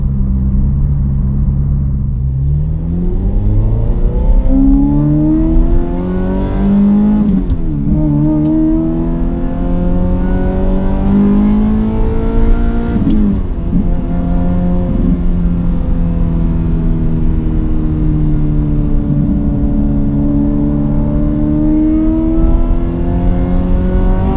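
A Ferrari F355 Berlinetta engine revs and accelerates, its pitch sweeping upward in strong surges, loud and close, with brief gear-change dips between pulls.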